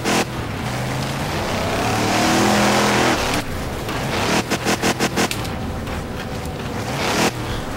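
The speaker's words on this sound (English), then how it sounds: "Revving it up." A car engine in the racing game Wreckfest revs loudly, its pitch climbing and dropping, then breaks into a rapid stutter of bursts before settling back to a steady drone.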